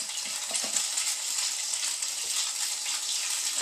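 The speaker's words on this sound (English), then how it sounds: "And I just dunk them real quick because I don't want them to get too soggy. And put them over in the skillet." Egg-dipped bread sticks frying in oil in a cast iron skillet give a steady, bright hiss and crackle, close and even throughout, with no voices.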